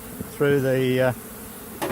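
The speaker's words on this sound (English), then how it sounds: "Nurse bees will go through the excluder, while field bees will take flight." A buzzing honeybee drone swells up close for about half a second, steady and tonal, then fades, with faint background noise around it, at a hive's queen excluder.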